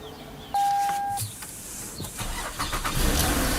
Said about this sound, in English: Car is starting.